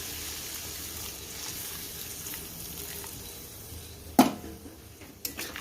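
Water poured into a pan of fried spice paste for aloo dum, a steady broadband sizzle with a sharp burst as the liquid hits, then settling simmer with a faint clink near the end.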